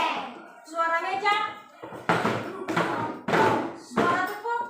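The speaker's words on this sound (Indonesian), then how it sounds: "tek, tek, tek. Suara meja," Knuckles knock on a wooden table in a classroom, four or five firm, close thuds in a loose rhythm, with a teacher and children speaking in between.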